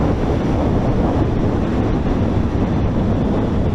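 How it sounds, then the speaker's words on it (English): Loud, steady wind roar buffets the microphone while riding a Honda CMX1100 Rebel cruiser motorcycle, a continuous broadband rush with no pauses or speech. "the wind, oh my god, the wind is not for cruising"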